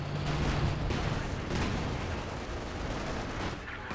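Dense gunfire and artillery booms from a Company of Heroes battle, with overlapping rifle shots, machine-gun bursts and heavy thuds rolling continuously at a loud, distant-sounding level, no talking.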